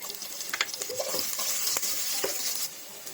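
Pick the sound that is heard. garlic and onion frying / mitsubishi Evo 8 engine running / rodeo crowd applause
garlic and onion frying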